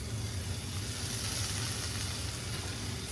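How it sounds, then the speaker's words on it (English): Bacon frying in a pan gives a steady, faint crackling sizzle that runs unbroken for a few seconds with no voices. "Okay, so let's get this bacon in the pan as well."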